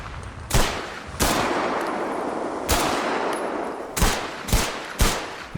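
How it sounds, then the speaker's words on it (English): Modded Fallout 4 weapon gunfire with layered reverb: six loud, sharp shots at uneven intervals, each trailing a long echoing tail over a steady background rumble. "provides a ton of all new weapon sounds, both for the player and NPC."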